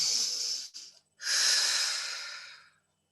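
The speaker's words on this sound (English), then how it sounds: "Take a deep breath." An audience at a seminar takes a deep breath together, a long airy inhale followed after a brief pause by a slower, fuller exhale that fades out, with no speech.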